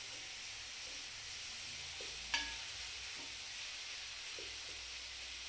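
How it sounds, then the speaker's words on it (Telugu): Chicken biryani being stirred in a cooking pot, a soft constant sizzle and hiss with a brief scrape of the spoon against the pot. "ఇలా బాగా కలుపుకొని"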